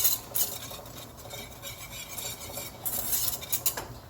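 A whisk scrapes and stirs all-purpose flour into a pan for mac and cheese, with irregular metallic scraping and rubbing strokes, some louder bursts near the start and end, close up with no talking.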